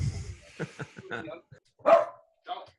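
A pet dog lets out a couple of short barks, one louder bark followed by a softer one, close by and standing out on its own after a stretch of muffled sound.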